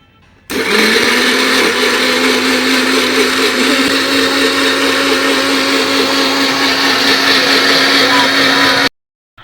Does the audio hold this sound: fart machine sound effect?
no